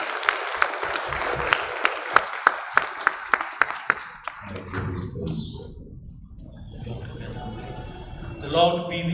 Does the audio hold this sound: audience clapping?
yes